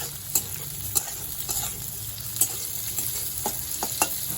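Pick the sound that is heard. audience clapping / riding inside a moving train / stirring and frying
stirring and frying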